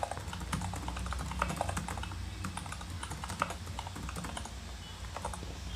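Steady rapid typing on a computer keyboard while entering code to read a Parquet file in Databricks, close and continuous keystroke clicks throughout with no talking.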